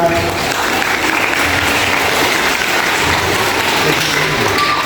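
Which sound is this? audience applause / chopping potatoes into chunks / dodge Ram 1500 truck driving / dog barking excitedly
audience applause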